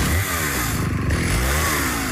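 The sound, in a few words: Husqvarna XP chainsaw running, in an advert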